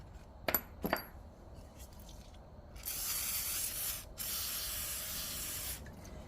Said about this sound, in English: There, we'll just get us some spray on